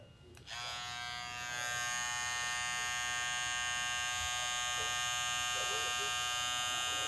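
A hair trimmer's rotary motor hums steadily with a high-pitched whine, running continuously after switching on, close and unchanging.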